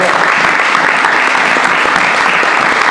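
A church congregation applauds loudly and continuously at a worship service, dense clapping with a faint murmur of the crowd throughout.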